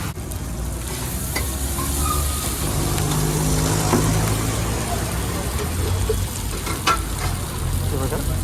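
Surmai (kingfish) fish frying in a pan in a restaurant kitchen, a steady close sizzle with crackling spits and stirring clatter running continuously throughout.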